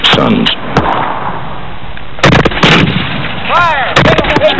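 Gunfire as townspeople and local militia shoot at raiders: several sharp, loud reports in irregular bursts, some with ringing tails and whistling ricochet-like sweeps, over a constant noisy battle background.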